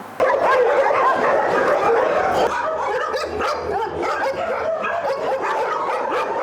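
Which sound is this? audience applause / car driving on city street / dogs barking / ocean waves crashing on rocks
dogs barking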